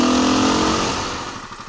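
KTM 500 EXC dirt bike engine given a light tap of throttle on a trail descent, a steady loud single-cylinder drone that eases down and fades over under two seconds, no talk.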